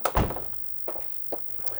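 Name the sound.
door being shut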